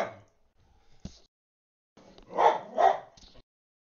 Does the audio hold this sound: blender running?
no